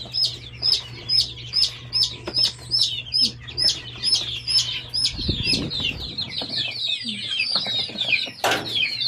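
Many day-old chicks in a brooding pen peep in a dense, continuous chorus of high, rapid chirps, with a brief rustle and a low thump partway through.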